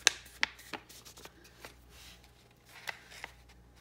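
A paper file folder being handled and folded at close range: a few sharp crisp creases and light rustles, scattered and irregular, quiet between them.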